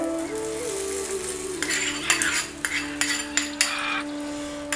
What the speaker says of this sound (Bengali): এবারে আমি তড়কাটা দিয়ে দিচ্ছি আমি চাটনির ওপরে